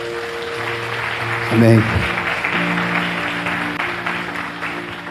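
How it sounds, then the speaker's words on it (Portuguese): A church congregation at a Sunday service claps together in a steady broadband patter that lasts throughout, while a voice speaks briefly over it near the start. "Vamos aplaudir o Senhor?"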